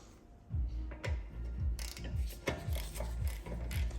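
A socket ratchet tightens 16 mm bolts on the rear brakes of a BMW 3 Series, close rhythmic clicking in repeated strokes of about two per second, with no talking.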